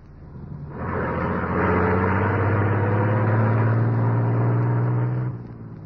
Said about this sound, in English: As the huge truck rumbled out from the alley